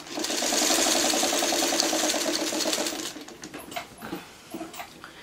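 A sewing machine stitches a quilt block, a fast rhythmic whirring run close and loud for about three seconds, then stopping, followed by a few scattered clicks and small handling sounds.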